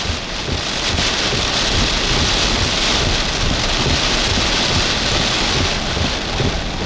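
Hurricane Beryl lashes Sargent Beach on the Texas coast with heavy, constant rain and a roaring wind-driven wash that stays loud throughout.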